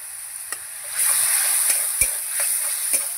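Spice paste with turmeric and a splash of water frying in a pan, a steady close sizzle broken by a handful of sharp spatula scrapes and taps as it is stirred.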